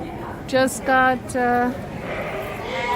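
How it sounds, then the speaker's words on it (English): Sheep and lambs at an agricultural show bleat three times in quick succession, loud and close, each call a wavering nasal cry, with crowd murmur and a brief voice in the background. "But these are the sheep and lambs just got"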